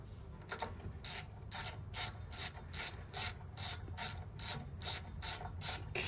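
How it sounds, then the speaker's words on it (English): Bolts being tightened down on a 20-year-old pressure washer give a steady series of about a dozen ratchet clicks, evenly paced and close up, with no talking. "So now there, we're going to tighten these back down."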